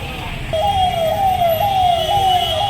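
A security escort vehicle's siren wails in repeated rising sweeps through traffic in Kolkata, loud and close above a steady rumble of engines.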